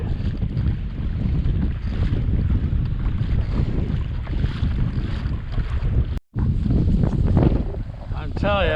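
Strong wind buffets the microphone while kayaking near an island during a kayak fishing tournament, a loud continuous rumbling roar with a brief dropout midway.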